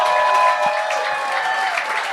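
Audience applause for a comedian at a French comedy gong show, a steady wash of clapping from a crowd that holds through the whole stretch without any talk over it.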